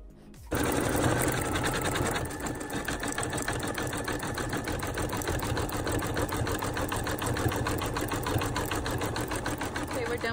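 A Brother Innovis 2800d embroidery machine stitches out a llama design with fast, steady, rhythmic needle strokes. The mechanical whir is close, loud and unbroken throughout, with no talking.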